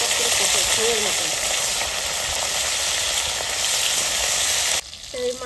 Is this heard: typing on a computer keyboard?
no